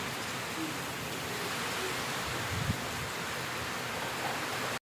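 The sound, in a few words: heavy rain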